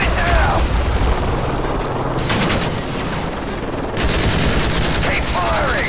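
Gunfire aimed at an enemy helicopter in Call of Duty Modern Warfare 3, loud rapid automatic bursts with booming impacts and mechanical clatter, pausing briefly before resuming, dense and close.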